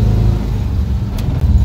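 Volkswagen Kombi engine losing power and straining near the top of an uphill road, a steady low rumbling drone heard from inside the van, loud and continuous without talk.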